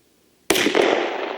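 A Glock 10mm pistol fires a single Underwood 140 grain Extreme Penetrator round, giving one sharp, loud report that starts abruptly and leaves a long, ringing decay behind it.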